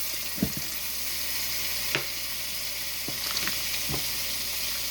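Sfenj dough, a traditional fried dough, sizzling in a pan of hot oil, with a steady hiss and a few soft pops and bubbling bursts throughout.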